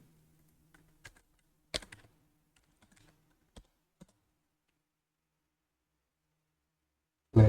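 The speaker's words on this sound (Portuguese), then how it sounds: "Vamos digitar" A few sparse, faint key clicks tap on a computer keyboard in a quiet room, scattered across several seconds, then a sudden louder bump at the very end.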